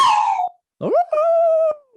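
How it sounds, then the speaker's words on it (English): A dog howls loudly and close up in two long, wavering, tonal howls separated by a short pause, with no other sounds. "Is that a bark or like a howl? It's a howl."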